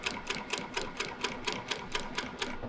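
An industrial sewing machine stitches in an even, rapid rhythm, about a dozen crisp mechanical ticks over a few seconds, moderately quiet and close, with no talking.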